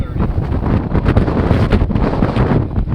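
Strong gusting wind roars across the water, loud and buffeting against the microphone for the whole stretch, with no clear voices above it.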